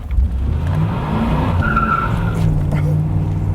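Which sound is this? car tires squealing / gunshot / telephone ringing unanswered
car tires squealing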